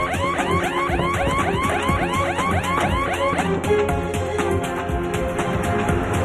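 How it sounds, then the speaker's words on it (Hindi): A car alarm blares continuously, cycling through rapid rising whoops and then steady beeping tones, loud and close with no talking. "अलार्म बज रहा है, भागे!"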